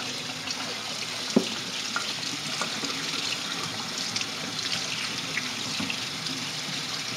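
Cold tap water runs steadily from a faucet over a turkey being rinsed in a sink, a continuous close splashing hiss with small knocks of handling, no voices.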